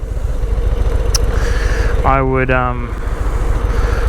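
A 2022 Harley-Davidson Low Rider S engine with stock exhaust idles with a low, fairly quiet, steady rumble while a person briefly speaks over it.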